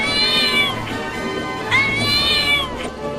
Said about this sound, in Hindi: ये बिल्ली इतना बोल क्यों रही है